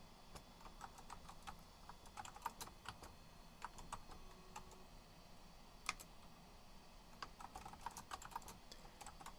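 Rapid clicking of keys on a computer keyboard, irregular bursts of close, crisp taps with brief pauses between, steady and fairly quiet with no voices.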